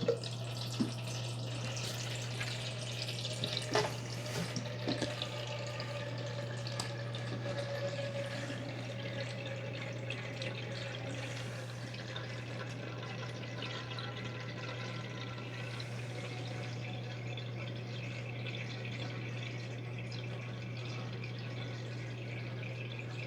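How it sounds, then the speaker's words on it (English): Water pours into two Brita filter pitchers, a Brita LongLast and a standard Brita filter, with a soft continuous trickle and occasional drips under a steady low hum, quiet and close throughout. "I'm going to pour water in both of these pitchers at the same time"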